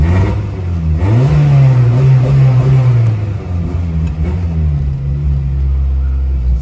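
Volkswagen Gol bought at auction, engine revved hard and loud up close, a deep rumbling roar climbing in a sustained surge then holding high before settling into a heavy idle-like drone.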